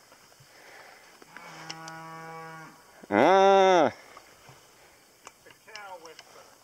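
Cows stand in a road, lowing in two long moos, the second loud and close, with a faint voice and light background noise in between.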